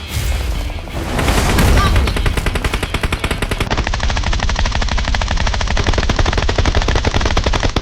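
Rapid automatic gunfire in PUBG Mobile rattles continuously and loudly, a dense stream of shots with heavy low rumble beneath, sustained throughout.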